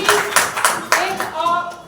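An audience claps at a spoken event, giving a short burst of several sharp, close hand claps in an uneven rhythm, with a voice heard speaking over them.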